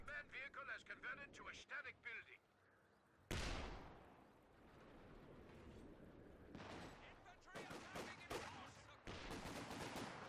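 Rapid gunfire and a heavy artillery barrage from the strategy game Company of Heroes 2, loud bursts of shots and blasts landing on a church, with a voice commentating over the battle.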